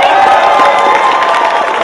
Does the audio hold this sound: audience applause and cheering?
yes